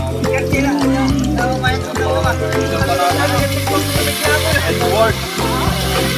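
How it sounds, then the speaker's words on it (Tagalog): Ginger and onion sautéing in a pan, a loud, steady sizzle and fry with rhythmic stirring and scraping throughout, set against a busy background that may include voices. "Ang ginigisa niya mga boss yung luya at saka sibuyas"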